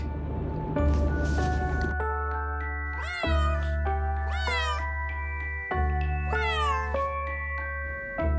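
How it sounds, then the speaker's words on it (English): A domestic cat gives several clear, rising meows, each drawn out and evenly spaced, over continuous background music. "And cat."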